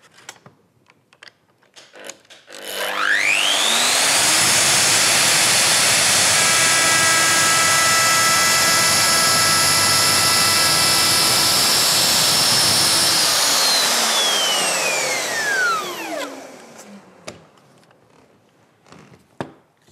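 A Festool router trims the edge of a solid surface worktop with a loud, sustained high whine that spins up, holds steady for about twelve seconds, then winds down alone.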